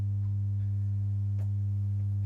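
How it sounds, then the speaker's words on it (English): A synthesizer holds a steady, sustained low tone with a buzzy stack of even overtones, continuous and unchanging for the whole stretch, with only a few faint ticks over it. "And now you should be hearing this synth."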